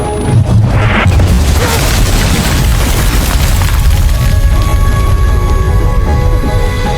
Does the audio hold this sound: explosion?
yes